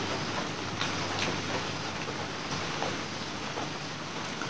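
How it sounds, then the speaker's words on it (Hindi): Steady, continuous rain falls in Jammu, a dense even hiss of drops with faint scattered ticks, alone without any talk. "जम्मू की तस्वीरें हम आपको दिखा रहे हैं जहां पर लगातार बारिश जो है वो देखने को मिल रही है"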